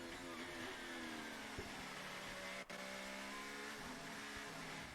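A Ferrari Formula 1 car roars past during Mexico Grand Prix practice, its engine a loud, sustained high-pitched scream with steady pitch and a brief gear-shift dip midway.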